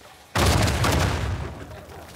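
A sudden heavy blast erupts in the Uncharted 4 video game, a loud boom with a rumbling, crackling tail that slowly fades over the next couple of seconds.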